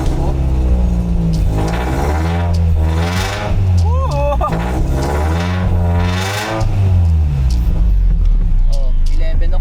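A Toyota MR2 engine, just repaired after misfiring from an electrical fault, rumbles loudly and steadily for the whole stretch with rising and falling revs, while people talk over it.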